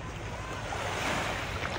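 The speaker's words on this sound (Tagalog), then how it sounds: "Yung dagat po." Sea waves washing onto a white sand beach, a continuous broad surf hiss with wind noise, moderately faint and steady with no voices.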